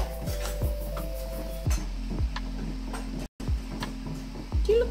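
Food being stirred in a pot for Hainanese chicken rice with broth, giving repeated soft scraping and clinking strokes at an uneven rhythm, close and moderately loud over a steady low hum.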